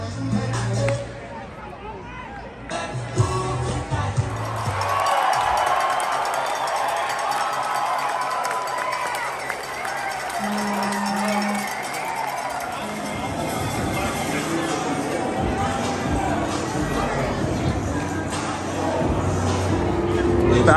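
A rowdy crowd at a Tennessee Smokies minor-league baseball game on free beer night in the bottom of the ninth makes loud, continuous babble with cheers and shouts, and voices talk nearby throughout.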